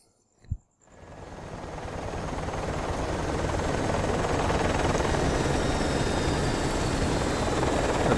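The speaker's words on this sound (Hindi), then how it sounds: "अभी ये हेलीकॉप्टर जो है वो वापस जा रहा है" Helicopter from the Project IGI video game, a steady loud rotor and engine roar that builds after a brief thump and holds continuously as the aircraft departs, with no talk over it.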